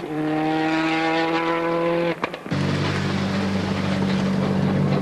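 Sébastien Loeb's WRC rally car arrives at Rally Catalunya 2003. The engine holds a loud, high rising note, cuts out abruptly with a sharp shift or lift, then comes back to a lower, rougher roar close by.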